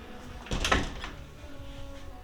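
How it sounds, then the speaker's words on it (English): A guest house bathroom door in Tanzania is pushed shut with a single quick close thump and rattle, followed by quiet room tone. "Let's close that door."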